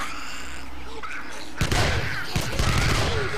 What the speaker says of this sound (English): I'm gonna use submachine gun.